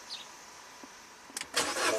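A stick-shift Mini with a weak battery cranks briefly and then catches, the engine starting up with a loud burst and settling into a rough running sound after a quiet stretch.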